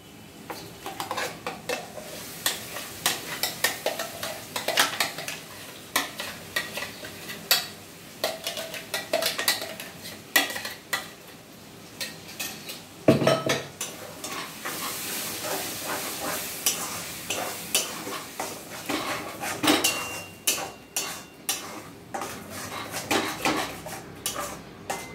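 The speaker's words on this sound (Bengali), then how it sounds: "এবার এই পটলের বাটাটা আমরা কড়াইতে দিয়ে দেব।" Pointed gourd paste stirred and frying in a wok with onion and prawns, giving a steady sizzle under repeated scraping and clinks of a utensil against the pan, fairly close and with no talk.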